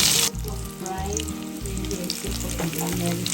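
Rava-coated Indian mackerel pieces shallow-frying in oil: a continuous bright sizzle with soft spatters, heard close, with rhythmic background music underneath.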